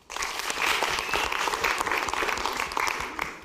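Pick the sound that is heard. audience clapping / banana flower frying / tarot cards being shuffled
audience clapping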